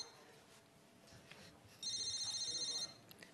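A telephone rings in a home setting, one steady electronic ring lasting about a second, heard clearly over quiet background murmur after a spell of near-silence.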